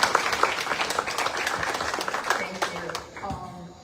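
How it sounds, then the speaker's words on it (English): A seated audience at a talk on environmental protection in Dominica claps in a round of applause, distinct individual hand claps forming a moderate, uneven patter that thins out near the end as a voice begins speaking. "So let's give a round of applause to Karen."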